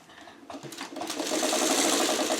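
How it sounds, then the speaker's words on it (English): Sewing machine stitching quilt pieces for a pineapple block, starting with a few slow stitches and speeding into a fast, steady rhythmic whir, close and clear. "We don't want to sew them backwards."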